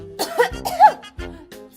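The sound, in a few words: cough, performed while reading a fanfic aloud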